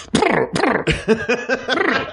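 A voice imitating a cough: a rapid series of rough, throaty hacking bursts, close and fairly loud.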